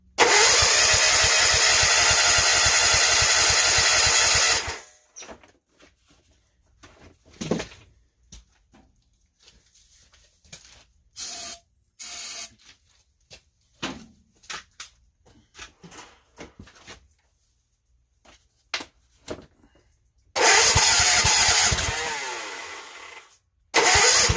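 An engine whose carburetors need work cranks loudly for several seconds and fails to catch, followed by quiet clicks and handling noises, then a second long cranking attempt that stops without starting.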